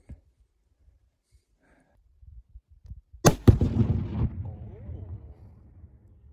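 A rifle shot strikes a Tannerite exploding target on a frozen pond, setting off a sharp double crack and a loud blast that rolls into a rumbling decay. A few soft knocks come before it.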